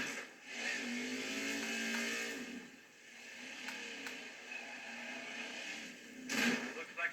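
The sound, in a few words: car engine revving in a NASCAR video game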